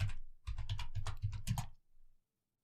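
A password is typed on a computer keyboard in a quick run of about a dozen close, crisp key clicks over under two seconds. A brief final press follows, then silence.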